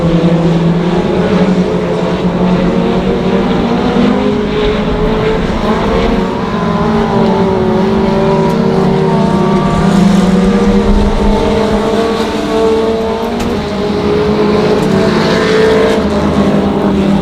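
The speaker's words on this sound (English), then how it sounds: "Tyler Webb is your race leader as they work on down the back straightaway" Several race cars roar steadily around the Monarch Motor Speedway oval, a loud continuous engine drone with layered pitches swelling slightly as they run down the back straightaway, with no voices over it.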